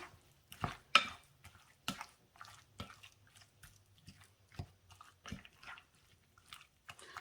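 A spoon works through a thick crab meat dip with dill and Old Bay seasoning, giving soft, irregular wet scrapes and taps against the bowl, close and quiet with no talking.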